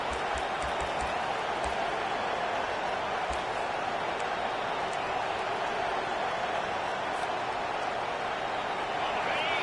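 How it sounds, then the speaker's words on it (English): A stadium crowd roars during a football game as the home defense holds the opponents deep in their own end, a broad steady wash of cheering and noise that stays loud and constant. "The roar of the crowd trying to fuel this defense to keep them pinned in their own end"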